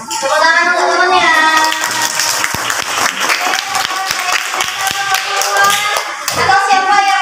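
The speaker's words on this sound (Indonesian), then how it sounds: "Tepuk tangan untuk temannya." A class of primary school children claps for a classmate, a dense, loud burst of many small hands close by, with children's voices and chatter mixed in and a teacher's voice rising over the clapping.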